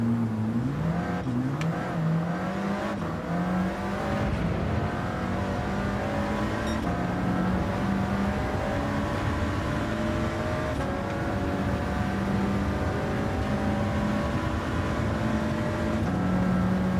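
A race car's engine in Gran Turismo 7 during an online lobby race: a loud, continuous engine drone with rising pitch as it accelerates through the gears, then sustained high revs, close-up with no talk.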